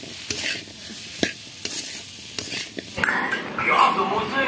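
Pointed gourd, potato and tomato curry with turmeric and salt being stirred in a pan: a few sharp scrapes and knocks of the spoon, then a louder burst of sizzling frying toward the end.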